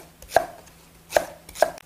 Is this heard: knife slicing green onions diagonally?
yes